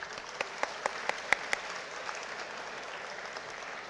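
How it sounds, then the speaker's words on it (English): A hall audience at IIT Kharagpur's 69th Foundation Day programme gives a round of applause for the chief guest's lecture, a dense steady clapping with a few sharper nearby claps early on, moderately loud throughout. "A round of hearty applause"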